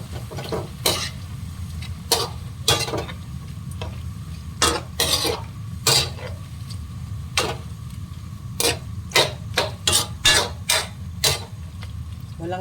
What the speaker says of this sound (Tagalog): Imimix na natin ang hipon.